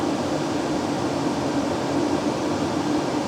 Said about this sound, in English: you can see that the aircon's gone on